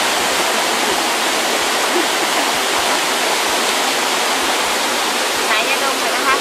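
A waterfall at Wat Tham Mueang Na, a Thai temple near the source of the Ping River, roars steadily and close, its broad constant rush filling the whole stretch with no break.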